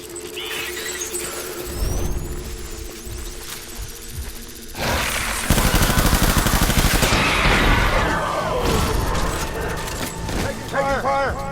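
Gunfire in the game Death Stranding erupts midway, a dense loud barrage of shots and clatter following quieter ambient sounds and tones, with voices talking over parts of it.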